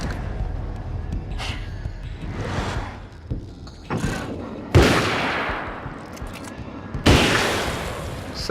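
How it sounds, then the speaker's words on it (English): Hunting rifle shots in Alan Wake's American Nightmare, a horror shooter game: several loud, sharp single cracks spaced a few seconds apart, each with a long fading tail, over a low rumbling background. "does that hunting rifle sound good when you shoot it"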